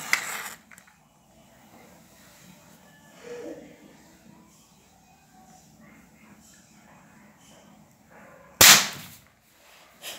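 A homemade pen bomb firecracker goes off with a single sharp, loud bang near the end, after a quiet stretch of faint room noise and soft handling sounds.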